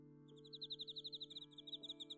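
Birds chirp in a quick, even string of bright, high tweets that repeat close together for about two seconds over a faint steady hum.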